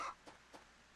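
Farm chickens in the Story of Seasons: Trio of Towns video game give a few short, faint clucks against quiet game background.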